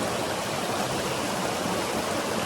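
A creek along the Appalachian Trail rushes steadily, a dense, even wash of flowing water heard up close with no voices over it.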